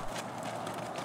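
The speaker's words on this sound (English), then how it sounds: "Now Michelle goes into a lope, also called a canter." A horse loping, or cantering, with a rider; the hoofbeats come as a fast, soft, continuous patter over steady background noise, fairly quiet and brief.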